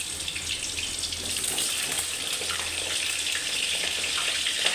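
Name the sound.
pointed gourd frying in hot oil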